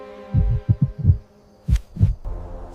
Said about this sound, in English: You are afraid of a heartbeat.